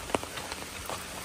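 Rain pattering steadily onto a hiking trail along the Appalachian Trail in New Hampshire, a soft continuous hiss with scattered nearby drops, heard alone.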